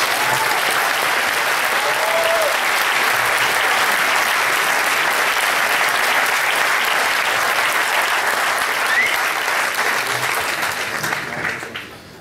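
Concert audience at a music association performance applauding young band musicians, a long, full, steady roar of clapping with faint crowd murmur and a few scattered voices, tapering off near the end.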